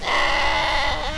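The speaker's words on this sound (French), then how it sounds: "le calme ne sera interrompu que par le bêlement des moutons" Sheep bleating close by near a riverside wool mill at Ulverton, a sustained wavering cry with a second voice wobbling in toward the end, heard alone.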